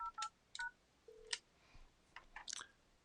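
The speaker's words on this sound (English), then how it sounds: "So here's a call coming in." An incoming call rings on the Zultys Mobile iPhone app as a quiet series of short electronic beeps and chirps in an otherwise still room.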